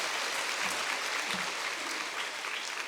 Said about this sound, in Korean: 이럴 때는 박수도 치는 건데.